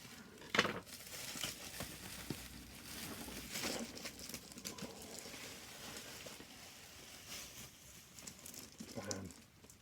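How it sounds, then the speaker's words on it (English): Scissors cut through packing tape and a cardboard box is opened to reveal a Hot Toys Batgirl figure. Close, quiet crinkles, scrapes and taps scatter throughout, with no talking. "cut the tape."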